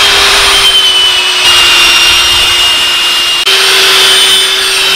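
A power drill fitted with a 3/4 inch ship's auger bit bores a hole in a log, a loud steady whine held throughout with slight pitch dips where the bit is eased in and out.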